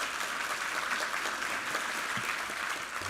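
Church congregation applauding during a Sunday service, a steady wash of many hands clapping at moderate level throughout, without speech.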